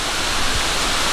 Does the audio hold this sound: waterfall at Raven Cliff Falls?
yes